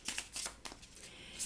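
Kipper fortune-telling cards being shuffled by hand, soft quick riffling bursts repeating close by, fairly quiet with no talking.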